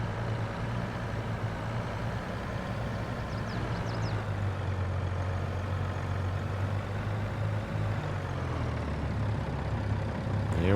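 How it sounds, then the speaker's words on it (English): A truck engine in Farming Simulator 22 rumbles steadily and low throughout, a continuous heavy drone with no talk over it. "Roll faster, truck, roll faster."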